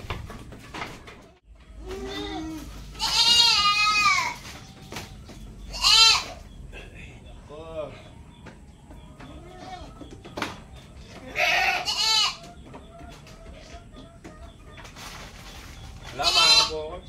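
Goats bleat in several loud, wavering calls spaced a few seconds apart, with quieter farmyard noise in between.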